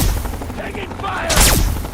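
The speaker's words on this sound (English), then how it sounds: "Taking fire!" Loud, dense bursts of rapid gunfire and a sweeping whoosh in the video game Fallout 3, continuous over a rumbling low background, with a voice briefly audible underneath.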